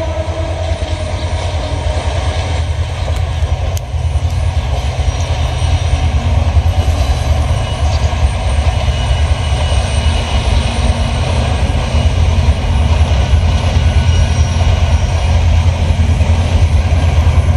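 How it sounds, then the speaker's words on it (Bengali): A long train rolls slowly past on a morning run, producing a loud, continuous, close rumble of wheels and wagons that holds steady throughout with no break. "আজকে সকালবেলা ট্রেনটা খুব ধীর গতিতে চলছে।"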